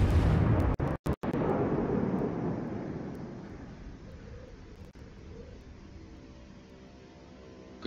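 Battleship main guns fire in World of Warships, a massive close boom that rolls into a long, slowly fading thunderous rumble with no talking over it.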